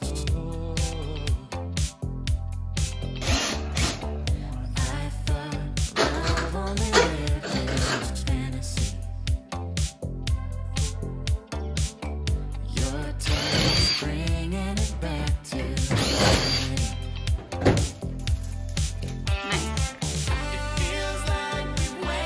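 Power drill backing out screws during floor and wall demolition inside a tour bus skoolie conversion, with repeated whirring bursts over a steady loud background of music or machinery and a dog barking at times.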